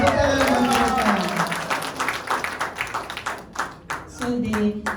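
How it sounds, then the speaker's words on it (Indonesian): Audience clapping at an event honoring a recently engaged couple, a steady wash of applause mixed with speech and crowd chatter that swells, thins midway, then picks up again. "Tepuk tangan buat mereka."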